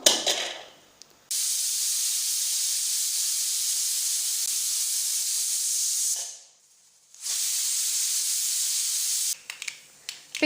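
Pressure cooker on the stove cooking potatoes, letting off loud continuous steam hisses in two long whistles separated by a brief pause, close up.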